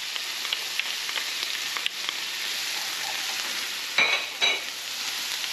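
Garlic goes into a frying pan already holding onion and celery, and a steady, close hiss of frying carries throughout. Two brief louder crackling bursts come near the end as food is stirred, with no talking.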